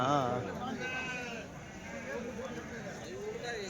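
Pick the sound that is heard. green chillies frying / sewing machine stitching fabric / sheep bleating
sheep bleating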